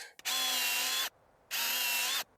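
A drill drives 2.5-inch timber screws into old decking boards in two loud, close, high-pitched whirring bursts of about a second each, with a short pause between them.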